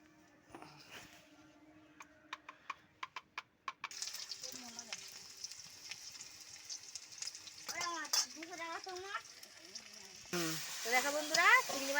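Taro and spinach curry fries in a pan in a Bengali home kitchen, with a steady sizzle and stirring clatter. A few sharp taps come early, and the frying grows louder and brighter toward the end.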